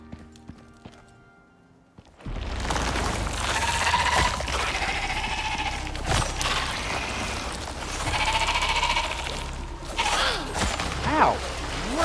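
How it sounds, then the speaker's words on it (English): A goat bleats a few times in the survival video game Icarus, heard over soft hoof-like clip-clops and footsteps in an outdoor scene, moderately loud and without speech. "I heard another goat, but I think it was up on the hill."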